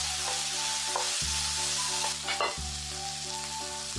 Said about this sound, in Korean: 썰어놓은 꽈리고추와 당근을 넣고 꽃소금 2꼬집을 뿌려 색감은 살리고 밑간을 살짝 하는 의미로 살짝 볶아줍니다